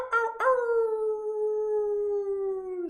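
A person imitates a wolf howl in one big, loud, sustained howl that starts with a short yelp and slides slowly downward in pitch, heard alone without talk.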